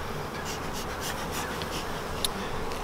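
Honey bees buzz softly around a hive calmed with smoke, a faint steady drone with a few brief louder passes as individual bees fly near.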